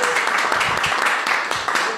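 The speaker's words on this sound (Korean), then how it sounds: "진행하는데 큰 힘이 되어 주신 강시철 자문단장님, 그리고 우리 정순영 위원장님께 다시 한번 박수" Applause from an audience at a lecture on basic income, a dense, steady patter of many hands clapping throughout the short moment.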